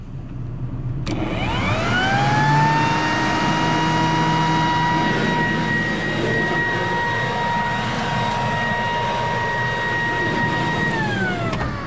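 A steady Toyota Tacoma pickup truck engine idles close by, a continuous droning hum with a whining tone that holds level for several seconds before easing off.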